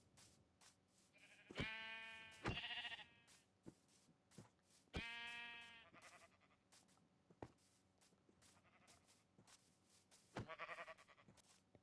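Several loud, harmonic sheep bleats from Minecraft at irregular intervals, with a few sharp clicks and taps in between, no talking.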